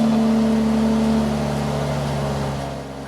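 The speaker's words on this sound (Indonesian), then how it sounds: "Coba kita start engine." A 2020 BMW 840i Gran Coupe M-Technic in Sport Plus mode starting up and settling into a loud, steady idle, its engine drone close and continuous with a slight drop near the end.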